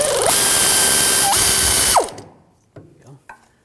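A ratchet spins out bolts on the rear axle of a 2007-2013 BMW 328i 3.0L L6, a loud continuous whirring burst of about two seconds with pitch shifts, then a few sharp metallic clicks and knocks.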